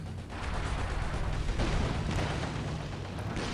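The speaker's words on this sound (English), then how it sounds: "Comes the flame mortar support." Flame mortar support fires during a 2v2 Axis-versus-Allies World War II strategy game match: dense, rumbling bursts of booming blasts overlap into a continuous, loud barrage lasting a few seconds, with no talking.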